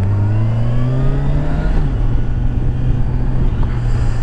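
A Kawasaki Ninja 1000 SX sport motorcycle accelerating on the road, its engine note rising steadily, briefly dropping at a gear change, then climbing again, loud and close with wind rush and no speech.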